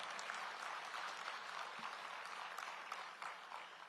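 Audience applause at a State of the County address in DeKalb County, a soft, even patter of many hands clapping at a distance, steady throughout and easing slightly at the end.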